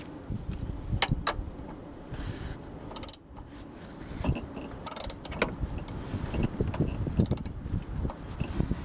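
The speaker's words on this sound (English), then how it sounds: "Go ahead and get my ratchet." A ratchet tightening a bolt on the wiper linkage of a 2009 Dodge Grand Caravan, with quick bursts of mechanical clicking and metallic rattles between quieter pauses, close by.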